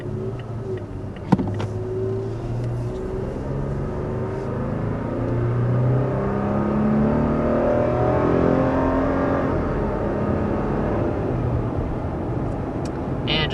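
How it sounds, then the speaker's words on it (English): A 2021 Toyota Tacoma with a 3.5-liter V6 accelerates hard up to 60 mph, its engine droning steadily and rising in pitch through shifts, heard from inside the cab with a single sharp click near the start. "we are up to 60 miles per hour in this 2021 Tacoma"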